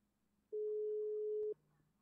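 A phone call in a GTA roleplay video game sounds a single steady electronic ringback tone lasting about a second, clear and alone over faint background hum.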